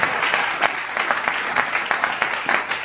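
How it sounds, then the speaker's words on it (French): A church congregation applauding together, a dense, steady wash of clapping with a loose pulsing rhythm, loud and close, with a few faint voices mixed in. "On acclame pour le roi des rois."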